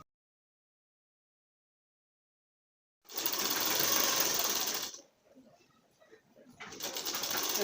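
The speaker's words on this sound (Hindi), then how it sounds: "और इधर को यहाँ पर सिलाई लगाएं।" Sewing machine stitching bra fabric, a loud steady whirring run of about two seconds that starts after a long silence, slows to quiet faint clicks, then revs up again.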